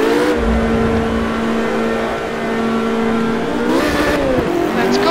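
A Porsche race car in Project CARS holds a loud, steady engine drone at high revs, rising in pitch near the end, with no talk over it.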